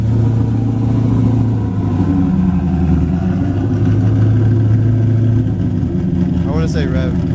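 A car at a Dallas Cars & Coffee meet rumbles loudly and steadily close by, building toward a rev near the end while people talk and call out over the engine noise.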